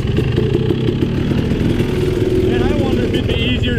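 A dirt bike's engine putters and revs loudly close by as the rider tries to wheelie it over a rock on a trail, with bursts of throttle and someone talking over it.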